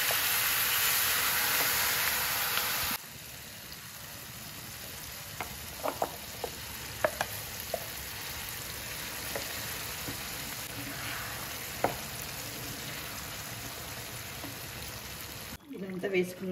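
A red chilli pickle sizzles in hot oil while being stirred in a pan, with a steady frying hiss and occasional scraping clicks of the spoon, close and moderately loud, with no talking.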